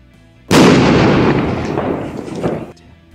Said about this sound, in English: Oh, good. An explosion.